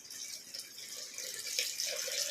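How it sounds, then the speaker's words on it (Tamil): Rice-washing water poured into a pressure cooker holding brinjal for chicken biryani, a soft continuous trickle and splash close by that grows slightly fuller toward the end. "இது கூட இப்போ கழனி தண்ணி ஊற்றுறேன்."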